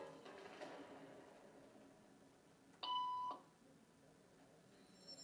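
Single short electronic beep tone in a quiet room during a social conformity experiment, clean and steady for about half a second, heard alone against faint background.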